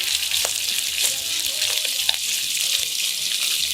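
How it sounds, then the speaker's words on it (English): Shrimps fry in olive oil in a pan. A loud continuous sizzle and crackle runs throughout, with a few small pops and faint clinks layered on top. "Add 2 tablespoons of olive oil. Cook the shrimps for 2 minutes each side."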